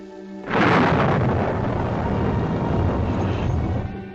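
Thunder from a storm in a 1946 period drama set in the Catskills cracks suddenly after a short quiet moment, then rolls on as a loud, sustained rumble that slowly fades.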